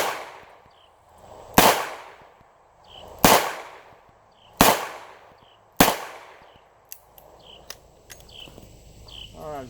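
Four loud, sharp .38 Special revolver shots fired at a target, spaced about a second and a half apart, each with a short ringing decay, followed by quieter clicks and handling noises.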